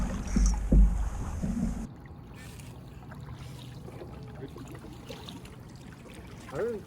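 Canoe paddling on the St. Croix River, with soft water swishes and dribbles close by, a louder knocking splash near the start, then quieter steady lapping under faint background noise.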